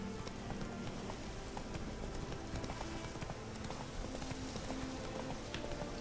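Horse hooves clip-clopping at a steady trot or gallop in The Witcher 3, a continuous rhythmic beat close by over a rainy, noisy outdoor background, with no talking.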